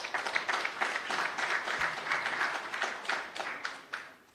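Audience applause at a political meeting in Uganda, a dense crowd clapping steadily for about four seconds with some sharper individual claps near the end.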